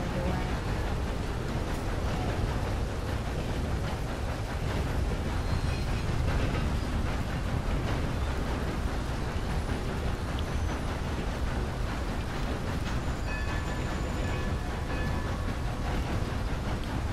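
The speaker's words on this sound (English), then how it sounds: "Now we need someone to drive the train." A train running on rails in the video game Red Dead Redemption 2 gives a steady, dense rumble that holds at an even level throughout, with no pauses or distinct individual clacks.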